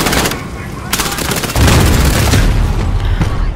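Heavy booming blasts and gunfire in Call of Duty: Modern Warfare, grenade explosions thudding loudly amid ongoing shooting, with a voice briefly underneath.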